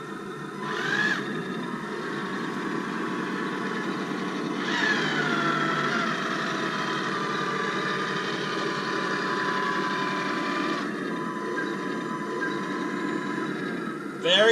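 A sport-tuned electric motor in a Tamiya 1/16 RC Leopard 2A6 tank whirs steadily for the whole stretch, with its pitch rising and shifting as the model is driven.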